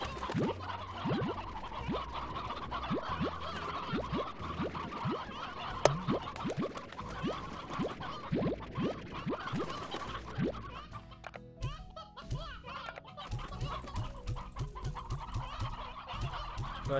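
Chickens cluck steadily in the video game Slime Rancher, a dense, continuous flock of short repeated clucks and squawks at a close, even level.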